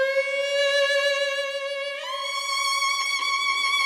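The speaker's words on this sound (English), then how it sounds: "Without the effects, the violin sound like this." A violin plays a plain, sustained bowed melody, two long clear notes, dry and close with no added effects.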